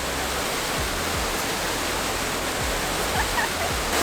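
Water pours and splashes steadily in the Trevi Fountain in Rome, a dense, continuous rushing wash heard close by on a quiet winter morning.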